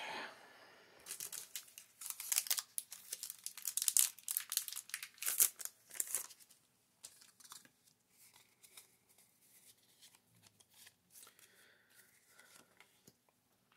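Pokemon TCG packaging for a Hisuian Electrode V box is cut open and unwrapped: close, busy crinkling and tearing of plastic and cardboard in quick bursts for several seconds, then quieter intermittent rustling and handling.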